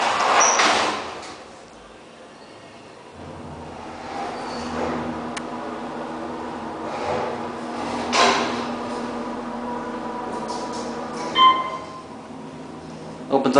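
An elevator door in the Power & Light District of Kansas City, Missouri slides open, with a hydraulic elevator a little low on oil, heard as a near rolling, rumbling slide over a steady mechanical hum, with several soft clunks and a sharper knock near the end.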